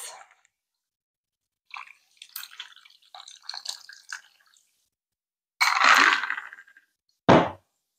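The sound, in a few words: liquid poured over ice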